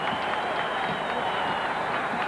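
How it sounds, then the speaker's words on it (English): Home crowd at a 1973 Baltimore Bullets basketball game against the Knicks, held at the University of Maryland, giving a loud sustained cheering roar with clapping mixed in, steady throughout under a faint broadcast voice. "on the campus of the University of Maryland starting to cheer the home team"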